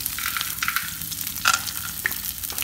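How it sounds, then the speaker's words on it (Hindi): Peanuts roast in a pan over a slow flame, giving a steady close sizzle with scattered light scraping and a few sharper clinks of stirring. "इसमें हम पहले मूंगफली भून लेंगे जिससे कि वो अच्छे से रोस्ट हो जाए"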